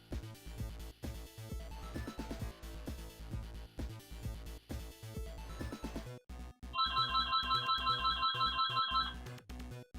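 An electronic phone ringtone rings in a room for about two seconds, a steady repeating trill, over loud looping music from the game Phantasy Star IV.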